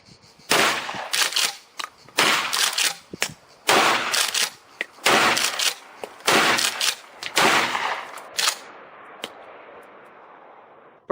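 A pump-action shotgun loaded with riot-control rounds fires in a rapid series of loud, close blasts, each cut short and crackling, before the shots stop and near-silence follows.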